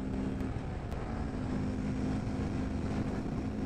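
A Honda Grom motorcycle engine drones steadily at full throttle while climbing a long uphill road, a continuous buzzing hum with wind rush and no talking.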